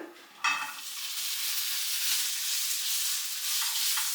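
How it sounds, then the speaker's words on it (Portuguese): Vegetables or tofu hit a hot frying pan for sautéing in a vegetarian couscous dish, a sudden hiss bursting in and settling into a steady, bright close sizzle with faint stirring. "o que eu vou fazer é saltear"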